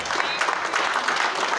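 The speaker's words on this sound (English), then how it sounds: "Please, a round of applause." Seminar audience giving a brief round of applause, a short dense burst of clapping with some voices mixed in.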